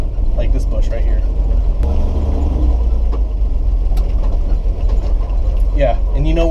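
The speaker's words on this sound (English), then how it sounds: "These tires can handle anything, like this bush right here." Low rumbling engine of a Toyota FJ Land Cruiser rolling over bushes, with scattered snapping and scraping of branches under the tires and occasional voices chattering in the cabin.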